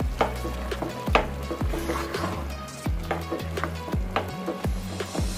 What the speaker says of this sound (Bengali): দিয়ে আমি আবারও নেড়ে চেড়ে নিচ্ছি।